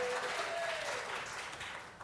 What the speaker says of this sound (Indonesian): sekali lagi dong tepuk tangannya kencang dong